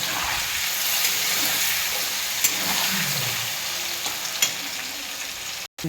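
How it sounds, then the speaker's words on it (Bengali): Paneer pieces seasoned with turmeric and salt fry in a pan with a steady, even sizzle, close and alone, with a brief cutoff near the end. "পনিরের মধ্যে এখানে একটু হালকা করে আমি একটু হলুদ দিয়ে দেবো আর সামান্য পরিমাণ একটু লবণ দিয়ে সুন্দর করে একটু ভেজে নেব।"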